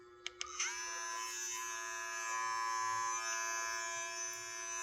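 A couple of clicks, then a Madeshow electric hair clipper with a ceramic blade starts and hums steadily with a high buzzing whine, close and fairly quiet.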